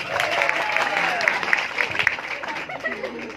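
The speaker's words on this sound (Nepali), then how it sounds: "एकपल्ट मोटो पातलोको पात्रहरूको लागि ताली प्लिज।" A live audience claps steadily at a comedy stage performance in Baglung, applauding the fat and thin characters. The dense, continuous clapping lasts the whole stretch and slightly thins near the end.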